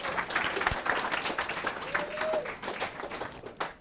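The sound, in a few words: applause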